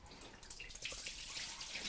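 Rinsed fish carcasses, with fins, flesh and bones, draining in a sieve, giving a soft continuous trickle and patter of dripping water, close and fairly quiet, with no voices.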